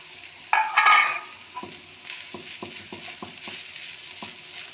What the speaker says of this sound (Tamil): கீரை வெந்தவுடன் இடித்து வைத்துள்ள தேங்காயை தட்டி வதக்கவும்.